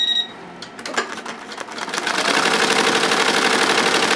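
An embroidery machine stitches a jacket held in a magnetic hoop, starting with a few clicks and then running up into a fast, steady, loud mechanical chatter close by.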